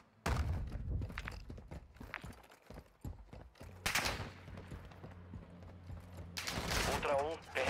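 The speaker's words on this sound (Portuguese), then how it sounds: "Tomando tiro lá da PQP, mano." Bursts of gunfire from the Call of Duty DMZ shooter game, including rapid automatic volleys, sound in short clusters over game noise and footsteps, while a player talks throughout.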